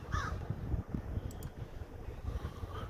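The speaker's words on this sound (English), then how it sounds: "You hear that? That was just two Raven, not two Crow." Two raven caws ring out outdoors at a football stadium, a pair of brief back-to-back calls fairly faint over steady wind noise.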